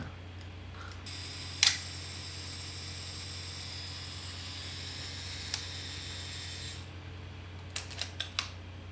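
A single crisp SLR camera shutter click near the start against a steady low hum, followed later by a faint tick and a short cluster of small mechanical clicks.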